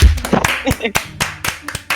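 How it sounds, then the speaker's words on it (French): A small group of friends claps during a presentation, with sparse, uneven claps mixed with talking voices. "Un tonnerre d'applaudissements s'il vous plaît pour Mathias Laflûte"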